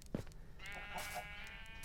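A single short sheep bleat in a video game, fairly close and clear, following a brief click, with a faint steady background hum.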